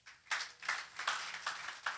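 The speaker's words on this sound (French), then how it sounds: "Applaudis le Seigneur Jésus." Scattered, fairly quiet clapping at a church conference, with a few separate bursts of hands spread across a couple of seconds rather than full applause.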